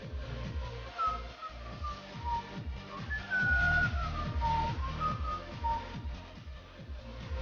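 Someone whistles the Geometry Dash game song, a thin wavering melody carried over the game's thumping electronic music beat, moderately loud and continuous for several seconds without speech.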